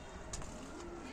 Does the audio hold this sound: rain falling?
no